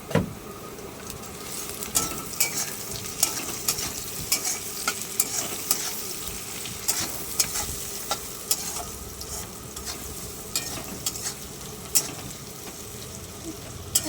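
Chopped onions frying with turmeric and salt in a pan give a steady soft sizzle with intermittent scraping stir strokes, close and moderately quiet, with no talking.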